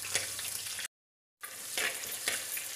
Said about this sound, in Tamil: கருவேப்பிலை நல்லா பொரியும் போது வெங்காயமும் அதில் சேர்த்து நல்லா வதக்கிக்கலாம்